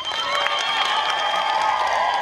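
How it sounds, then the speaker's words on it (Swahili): An audience at an official gathering gives a director a burst of applause, steady dense clapping mixed with some cheering that fills the whole short stretch. "hebu tumpigie makofi mkurugenzi wetu jamani"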